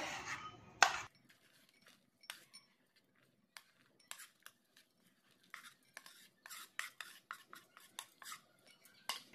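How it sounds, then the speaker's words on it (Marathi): Spoon stirring soaked dried fruits with orange juice in a bowl for an eggless plum cake, a series of short scraping clinks spread through the clip, faint and close, with no voices. "चला मग आपण ड्रायफ्रुट्स सगळे मिक्स करून घेणार आहोत।"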